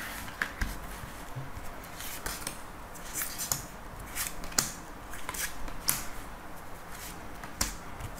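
Cards being shuffled and drawn for a daily card reading, heard as quiet, scattered papery flicks and sharp little clicks at irregular intervals, close by and with no talk.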